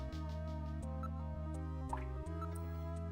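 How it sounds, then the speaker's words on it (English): Water dripping in a Sega CD game, a few sparse drips sounding over a loud sustained droning music bed, faint and irregular. "I can't confirm any sound except for the water drips"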